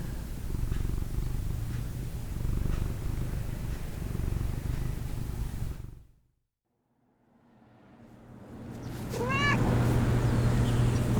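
During cat yoga in Tucson, a cat purrs closely and steadily, falls silent for a moment, then resumes purring and lets out a short meow.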